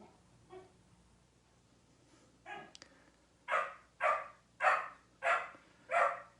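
A young rescued puppy barks indoors, first a couple of faint yips and then five loud, evenly spaced barks close by, with no talking over them.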